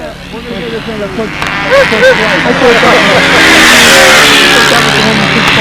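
Engine running loud and close with revving rises and an uneven roar, voices talking over it throughout.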